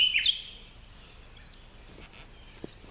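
A small bird chirps and tweets near the start, a few high sharp calls, then fainter calls persist in a quiet interior space during cleanup of an old 1968 Valiant.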